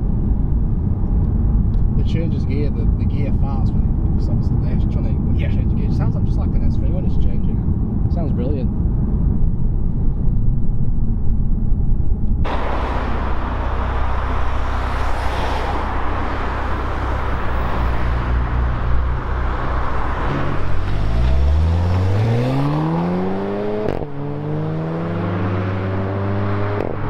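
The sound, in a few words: Audi TT S-Line engine and exhaust during gear change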